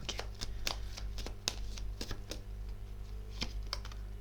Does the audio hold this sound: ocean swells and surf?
no